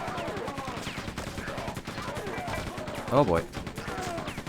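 Gunfire in the Quake II Remastered video game, with shotgun, machine gun and railgun, crackles in repeated bursts and sharp shots under a player's brief exclamation, with one louder blast near the end.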